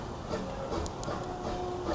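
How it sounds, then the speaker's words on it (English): The last Disneyland sweeper train of the night rolls by at closing time, giving a steady, fairly faint rumble with a light hiss, no speech, and a few brief tonal squeals from the rails. "This is probably this sweeper train with its last guests."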